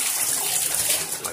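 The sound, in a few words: washing a crustpunk battle jacket in water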